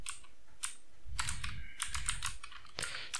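Close, quick keystrokes on a computer keyboard while entering a short search term, arriving in uneven bursts with brief pauses between them and no voices.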